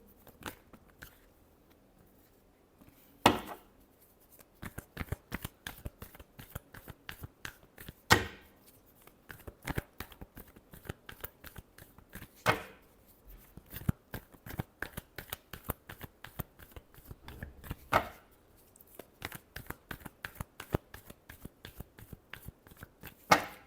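Tarot cards shuffled by hand for a love reading, a long run of crisp riffling flicks and soft slaps with louder bursts every few seconds, close and alone with no talking.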